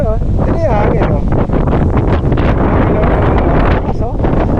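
Strong wind at the Pililla wind farm buffets the microphone in a constant loud roar, with a voice talking underneath.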